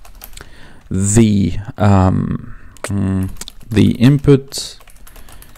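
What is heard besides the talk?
typing code on a computer keyboard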